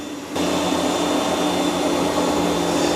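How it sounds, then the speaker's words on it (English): An ECOVACS DEEBOT X2 Omni robot vacuum running while vacuuming and mopping with its mop pads lowered, a loud, steady motor whir that starts abruptly and holds constant, with no talking. "It's put its mop pads down, it's vacuuming and mopping at the same time."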